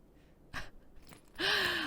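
A horse breathes in the video game Tales of Rein Ravine: two short breathy huffs, then a louder, longer snorting exhale with a rising tone, close and clear with no talking.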